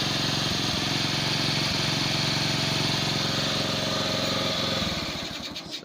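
A Kawasaki Bajaj CT 100 motorcycle that tends to stall while riding and is hard to restart runs loudly and steadily close by, then the engine sputters and fades near the end.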